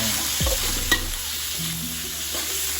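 Pork and garlic stir-fried in a hot pan for fried rice, with steady sizzling, scraping utensil strokes and a sharp clack near the start, close and continuous with no talking.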